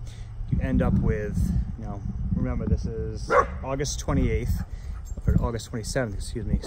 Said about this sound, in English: Excuse the dogs, they're barking.